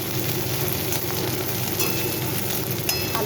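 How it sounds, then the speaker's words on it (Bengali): Ginger garlic paste frying in a pan for a prawn malai curry: a steady, close, hissing sizzle that runs unbroken throughout, with faint scraping stirs near the end. "আদা রসুন বাটাটা দিয়ে ভালো করে একটু কষিয়ে নিয়ে ভাজতে হবে"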